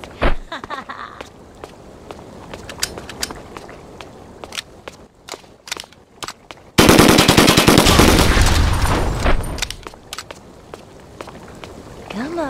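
Gunfire bursts in the video game 25 to Life during a shopping mall mission: a dense, loud automatic volley after scattered single shots and footsteps, with voices talking over parts of it.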